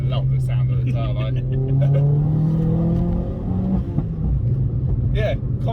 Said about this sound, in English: love the sound of the turbo.